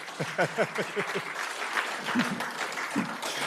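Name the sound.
audience applause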